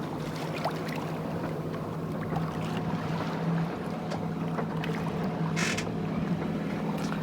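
A boat off Cavalaire accelerating hard while towing a rider on a cable gives a continuous engine drone with steady wind and water rush, fairly loud and unbroken throughout, with no talk.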